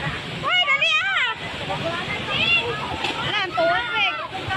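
Rushing water roars and splashes steadily while several people shout and talk excitedly over it in bursts.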